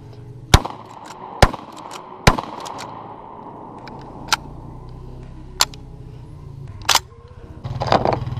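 Shotgun blasts ring out one at a time, about seven sharp reports spaced a second or so apart, loud and fairly close outdoors, with quieter background noise in between.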